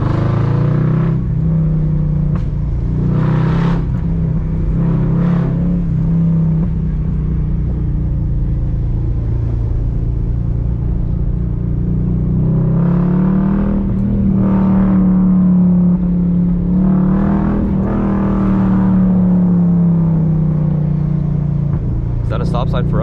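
Straight-piped exhaust of a 2006 Mercedes CLS 500 W219 while driving, a loud steady low drone that swells and falls with shifts and revs, with people talking over it throughout.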